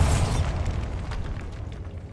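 The Bombarda explosion spell in Hogwarts Legacy bursts with a loud, rumbling boom that fades into a crackling, noisy tail.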